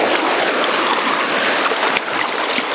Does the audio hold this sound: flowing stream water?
yes